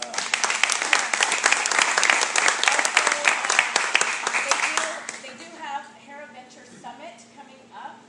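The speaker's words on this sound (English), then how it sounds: "so if we can give them a round of applause." An audience at an evening investor event claps for the hosts. Dense applause for about five seconds fades into scattered claps, and a voice talks over the tail.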